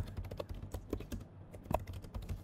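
Computer keyboard typing close by, a run of quick, uneven key clicks with a few louder taps, alone with no talk.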